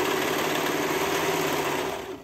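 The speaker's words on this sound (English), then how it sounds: "since I'm doing a serger, I'm going an inch up" A serger overlocker runs continuously while sewing a pencil skirt seam, a loud, steady mechanical whir with a constant motor hum that tapers off briefly at the end, with no talking.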